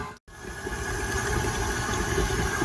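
An electric mixer creams a block of softened cream cheese with a stick of butter, a close, loud whirring buzz that starts after a brief pause and runs steadily to the end.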